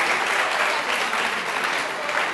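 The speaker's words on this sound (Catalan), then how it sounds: "es pot aplaudir, es pot aplaudir" Audience applause at a Catalan TV quiz show fills the moment, a dense, loud, steady wash of clapping from a studio crowd.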